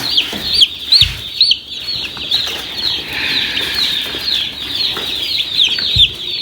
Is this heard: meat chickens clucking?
yes